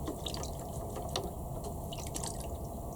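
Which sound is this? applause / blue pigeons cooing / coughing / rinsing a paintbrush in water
rinsing a paintbrush in water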